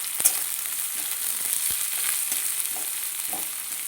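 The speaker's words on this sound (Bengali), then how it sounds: "এবার পেঁয়াজটা একটু নেড়ে চেড়ে নিলাম।" Onion frying in a pan while being stirred, a steady bright sizzle with scattered scrapes and clicks of the spoon against the pan, close and continuous.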